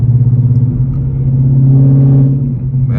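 A Ford Mustang with a Gen 3 Coyote V8 engine, heard from inside the car during daily driving, gives a steady, loud, low engine rumble that swells slightly as the car accelerates, with no talk over it.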